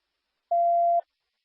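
A police radio scanner gives a single clean electronic alert beep, a steady pure tone lasting about half a second, clear and isolated against silence.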